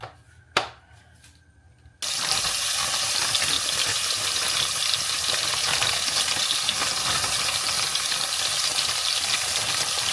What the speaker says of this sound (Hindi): सबसे पहले हमने लेना है ऑयल, क्योंकि हमें थोड़ा सा कीमा भूनना है।